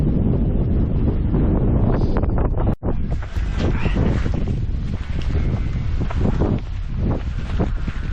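Strong gusting wind buffets the microphone on an exposed Welsh hillside along a long-distance walking trail, a loud continuous roar with rustling and a brief dropout, and no one talking.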